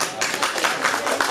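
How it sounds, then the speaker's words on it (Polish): A crowd at a Polish harvest festival in 2017 claps in a brief, rhythmic patter of hands, fairly close and steady, after a harvest wreath is presented. "wielkie brawa"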